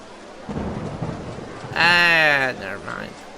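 Thunder rumbles low beneath a steady hiss of rain in the OpenRCT2 theme park game, followed by someone talking over the storm.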